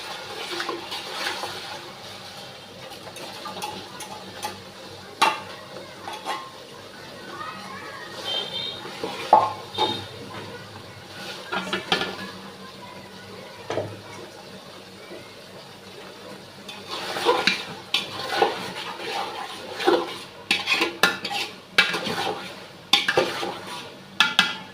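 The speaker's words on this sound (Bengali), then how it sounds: "তো আদা রসুন কষানোর সাথে আমি দিয়ে দিব মাংসগুলো," Meat being stir-fried with ginger and garlic in a pot for biryani at home, heard as steady scraping, clinking and sizzling from a ladle stirring the pot, with louder bursts of clatter toward the end.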